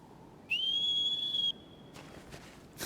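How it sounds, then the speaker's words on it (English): A single high, steady whistle in the Shadow of the Colossus remake rises quickly and holds for about a second, then a fainter tone lingers briefly before dull ambient game sounds and light rustling follow. "Here's the whistle."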